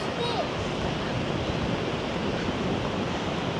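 Sea waves roll in a steady broadband wash along the shore, loud and continuous, with wind rumbling over the microphone.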